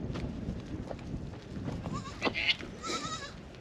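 Goats and young kids bleat in a family herd of about thirty in a rural Wayuu setting in Colombia, several short wavering bleats near the end over rustling and background voices.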